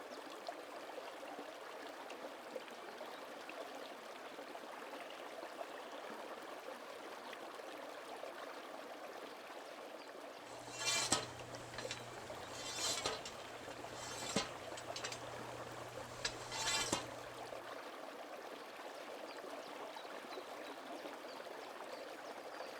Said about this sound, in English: Here, Hatchery Creek joins Michael's Brook, which eventually forms the upper Nicomekl.